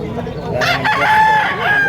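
Boston-breed rooster crows loudly and close at a live chicken market, a long rising call over a busy, noisy background with a little faint talk.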